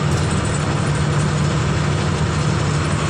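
Lorry loaded with mangoes idling at the roadside, a loud, steady low engine rumble that continues without pause, no talking.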